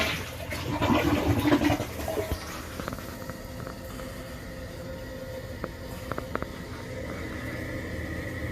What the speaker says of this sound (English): We'll do the flush test in a minute.